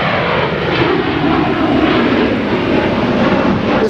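A regular airplane flying over an emptied Los Angeles street, its engine a loud, steady, broad roar that holds level throughout with no voices.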